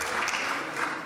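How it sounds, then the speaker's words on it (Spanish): Applause fills a parliament chamber during a special session, a dense, steady wash of clapping at moderate distance without any voices. "le damos un gran aplauso"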